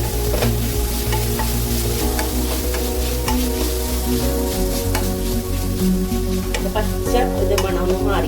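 Six hot green chillies with crushed ginger and garlic frying in a pan as the base for a Kerala mutton curry, a loud continuous sizzle with repeated stirring scrapes, close up and without talk.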